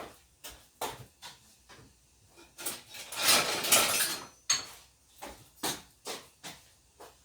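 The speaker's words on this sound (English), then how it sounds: "Let me grab a spatula" Kitchen utensils clink and clatter while a spatula is grabbed, with a series of close, sharp metallic and wooden knocks and a brief rummaging rattle in the middle.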